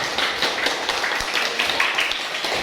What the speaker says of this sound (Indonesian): tepuk tangan sekali lagi untuk semuanya